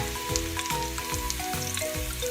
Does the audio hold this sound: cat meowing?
no